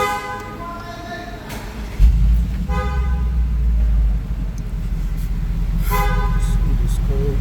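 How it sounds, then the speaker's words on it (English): A Mercedes G63 engine cranks and fires with a sudden low burst, then settles into a steady, deep idle rumble, with brief electronic dashboard tones sounding before and after the start. "So let me start the car."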